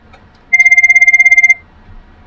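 A Cisco 7841 IP desk phone rings for an incoming call with a loud, close, rapid warbling electronic trill lasting about a second, then falls quiet.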